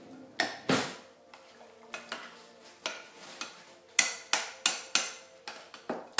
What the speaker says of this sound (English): let me get one more mixing spoon.